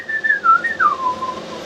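A person whistles a single sliding melodic phrase on a live broadcast, a clear wavering tone that rises and falls for under two seconds over faint room noise.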